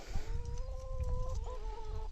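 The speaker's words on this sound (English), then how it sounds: "We currently have 10 hens, laying hens" Laying hens in a backyard flock cluck close by, with soft repeated calls and drawn-out tonal clucks over a low, continuous murmur.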